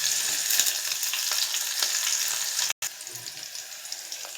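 Red onions fry in hot oil for a prawn and brinjal curry, giving a bright continuous sizzle close by with a brief dropout midway.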